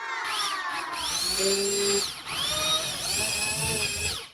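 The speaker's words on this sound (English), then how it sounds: "I had the hammer function on the drill bit" A power drill set to hammer function whines steadily, its pitch dipping and rising as the bit works through wood, with a brief pause midway before it spins up again.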